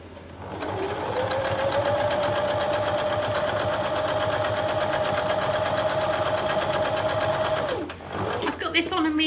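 A sewing machine stitches a quilt block at medium speed, a close, even mechanical whir that holds steady for about eight seconds and then stops.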